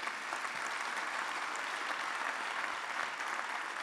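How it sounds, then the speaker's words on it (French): Steady, even audience applause fills a hall at a commerce awards ceremony in the Palais Beaumont, Pau, heard alone at a moderate distance with no break or swell for four seconds. "Vous les applaudissez toutes les deux"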